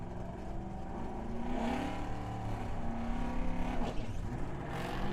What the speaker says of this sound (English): BMW, Terlecki trying to close in on Doc Dawkins with that convertible